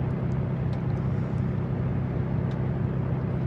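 An aircraft taxiing back to the RAF base at Gibraltar, heard as a steady, loud engine rumble and whine that holds constant throughout.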